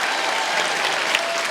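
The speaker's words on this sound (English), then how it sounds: "that's the biggest cheer of the night so far" An audience applauds after a children's choir at a charity evening of song, dense steady clapping filling the room throughout this short stretch.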